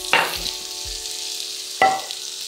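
Vegan food sears in a hot pan with a steady soft sizzle, broken by two sharp clattering hits of a utensil against the pan and a couple of low thumps.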